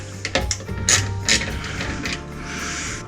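Bolts are loosened and removed from a Harley-Davidson motorcycle backrest, giving close, irregular metallic ratcheting clicks and taps with brief louder bursts.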